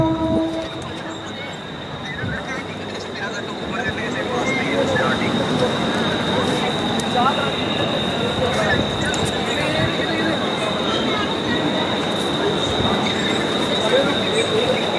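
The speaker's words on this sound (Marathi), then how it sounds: "तर भाई आता ट्रेन आली" A train pulls into a busy Mumbai railway station with a broad, steady rumble of wheels and a thin high squeal held throughout, while crowd noise and voices murmur close by.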